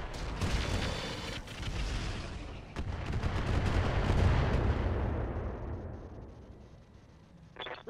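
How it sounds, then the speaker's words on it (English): Heavy weapons fire in a mech combat video game: loud booming shots give way to a long, rolling rumble that slowly fades, with a few sharp cracks early on. "I'm under heavy fire."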